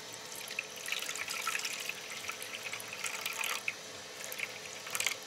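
Water pours and splashes into a bowl of bread dough mix, a steady close trickle with drip-like spatters and no talk, measured out for a first homemade loaf.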